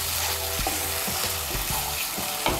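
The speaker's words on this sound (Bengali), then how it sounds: "কাজু বাদাম পোস্ত বাটাটাও ভালো করে মিশিয়ে নেব" Cashew and poppy seed paste being stirred in a pan for doi paneer, giving a steady soft sizzle with repeated scraping strokes of the spoon, close and alone with no talking.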